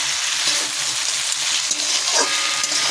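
Pieces of fish spread out in a hot pan fry with a steady, close, dense sizzle and crackle that holds evenly throughout, with no voices.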